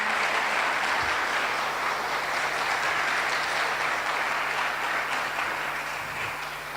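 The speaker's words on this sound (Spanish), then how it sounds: "Dele un aplauso al Señor." Congregation applauding during a Spanish-language church service, a loud, even roar of many hands clapping that holds steady and fades slightly toward the end.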